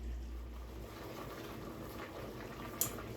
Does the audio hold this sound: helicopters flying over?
no